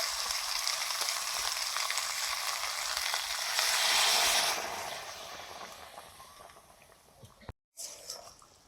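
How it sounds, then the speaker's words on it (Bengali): Hot water poured into a pan of simmering meat curry, a loud continuous hiss and sizzle that swells midway, then eases off and cuts out briefly near the end. "এবারে জল দিয়ে দেবো গরম জল দিচ্ছি"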